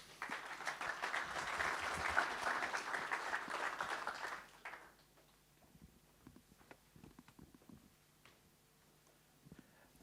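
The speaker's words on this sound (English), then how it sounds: "So please a warm applause for Mr." Audience applause welcomes a speaker at a hydrogen energy conference, a steady burst of clapping that swells for about four seconds, then cuts off abruptly, leaving quiet room noise and a few faint footsteps.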